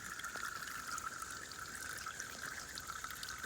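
Clear spring water trickling out of the side of a mountain along the Appalachian Trail, a faint, steady thin stream with a continuous bright splashing texture and no voices.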